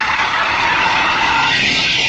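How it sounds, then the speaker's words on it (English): Car tires screech loudly while the car goes around a corner, a continuous high-pitched squeal held for about two seconds with no talking. "Going around the corner. You can hear the screeching."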